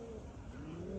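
Soft, low cooing from pigeons at night, a steady murmur close by in a quiet rooftop coop, with a faint background hum.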